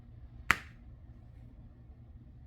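Two sharp, crisp snaps about two seconds apart as a diamond painting pen is pulled from putty, close and clear over quiet background.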